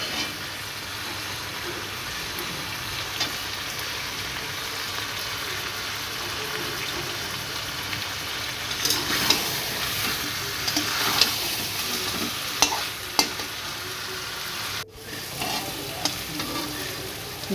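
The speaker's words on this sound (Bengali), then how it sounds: "চিকেন হয়নি নাড়তে নাড়তে এখনও অনেকটাই কষানো বাকি আছে" Chicken for a curry braises and fries in a pan, giving a continuous loud sizzle with ongoing stirring scrapes and occasional bursts of spattering over the whole stretch.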